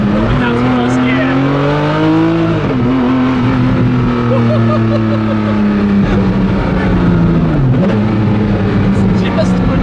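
A car engine revs hard in first gear while driving past rock walls through a valley, a loud raw rising and falling drone that stays close throughout with a brief dip mid-pull; a voice talks over it.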